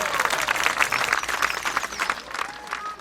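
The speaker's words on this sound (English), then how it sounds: "I don't know what they're cheering about." Crowd cheering and applauding in the Action PC Golf 2020 video game at the 1962 Pensacola Open, a sustained, fairly loud wash of clapping and cheers that rises and falls for a few seconds.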